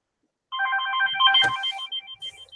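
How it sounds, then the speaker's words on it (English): A phone rings with an incoming call, a steady electronic trilling ringtone lasting about two seconds, loud and close, with a brief rustle partway through and no talking. "hold on, I'm getting a phone call from Aaron."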